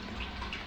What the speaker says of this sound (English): you can always take your water and pass through the sieve like that